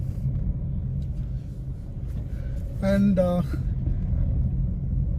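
A Mahindra XUV 300 engine pulls in second gear with a steady low rumble from inside the cabin, while a voice talks over it.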